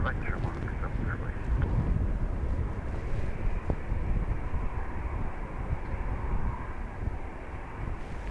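An airplane approaching at Dublin Airport in blustery crosswinds, a broad low engine roar holding steady throughout, mixed with wind rumble and a voice talking over it.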